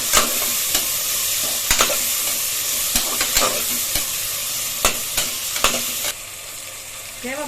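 Onions, garlic and curry leaves sizzle steadily in a hot pan as a spoon stirs them, with sharp scraping taps repeating every second or so over the constant frying hiss, close and loud.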